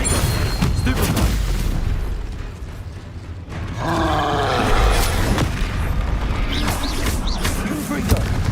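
Confringo spell explosions in Hogwarts Legacy boom and crackle amid constant combat noise, loud blasts running throughout with a brief dip in the middle and sparkling magical tails after.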